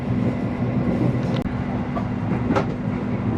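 An Argo Lawu passenger train runs on rails between Bumiayu and Cirebon, a loud, steady close rumble of wheels and carriage noise with a few faint clanks, and no voices.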